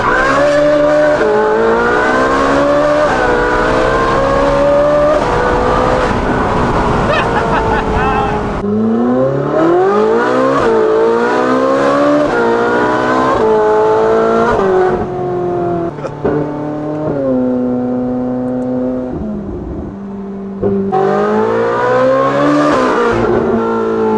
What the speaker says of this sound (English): We're gonna do a skid, it's Ferrari time!